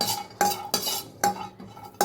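A utensil scrapes and clinks against a pan while dried coconut is dry roasted, four or five sharp stirring strokes in a quick uneven rhythm, close and clear with no talk.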